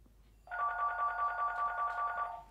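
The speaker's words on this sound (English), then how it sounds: "If you just lift that phone, it'll stop" A telephone bell rings in one steady, continuous burst lasting about two seconds, clear and fairly close against a quiet room.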